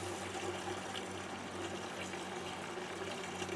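Old petrol drained from a 2.25 petrol Land Rover Defender 90 pouring into a parts washer, a continuous soft liquid gush under a steady low hum, close and unbroken.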